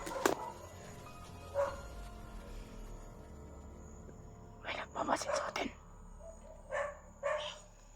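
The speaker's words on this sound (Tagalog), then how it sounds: "Hindi tayo ang inusig ng mga aso na ito." Dogs bark in a few short, scattered bursts at moderate distance, with hushed voices talking quietly in between.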